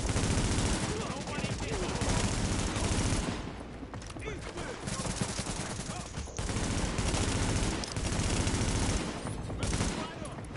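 Rapid automatic gunfire in the tactical shooter The Division, loud, dense overlapping bursts from several weapons nearly continuous, with short gaps between volleys.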